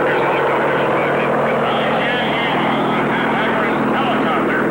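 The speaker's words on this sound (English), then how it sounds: "Mr. Hacker's helicopter is arriving, Governor." A helicopter arrives and sets down nearby, its steady rotor and engine drone filling the whole stretch loudly and continuously, with voices talking over it.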